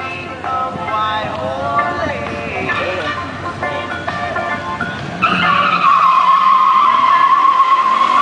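Two import cars, a Nissan Sentra SE-R Spec V and a Honda Civic Si, racing side by side, with engines revving and tires squealing loudly and continuously, building toward a sustained high whine near the end.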